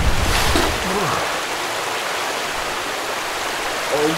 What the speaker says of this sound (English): What is that body of water?